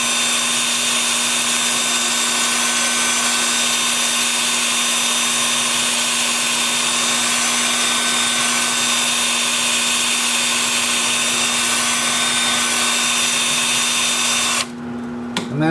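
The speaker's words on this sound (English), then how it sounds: "with the lathe spinning forward at about 350" A wood lathe spins forward at about 350 rpm, a loud steady motor whine with a constant hum that holds unchanged throughout before a brief disturbance at the very end.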